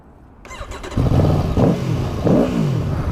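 A Suzuki GSX-R sports motorcycle engine fires up and revs hard, its loud throaty roar rising and falling in two strong bursts, close by with no talking.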